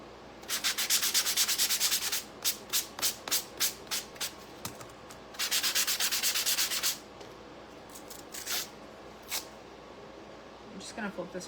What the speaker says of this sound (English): so we're going to start sanding